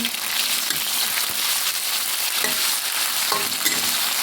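Pork stirred in hot oil in a pan seasoned with pepper, garlic and light soy sauce: a steady, close sizzle with occasional scrapes and clicks of stirring throughout.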